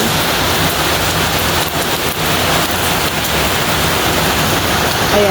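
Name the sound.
rain falling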